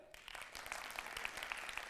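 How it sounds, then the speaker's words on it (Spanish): Audience applause at a gala, a faint, steady wash of many hands clapping somewhat far off, lasting throughout with a few sharper individual claps standing out. "¡Aplausos para Javier Bardem otra vez!"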